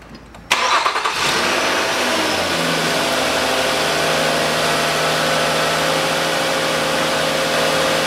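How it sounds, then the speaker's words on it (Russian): A 2010 Nissan Murano Z51 engine is started after a CVT fluid change: a short cranking whir catches at once, and the engine settles into a steady, fairly loud idle. "запускаю двигатель"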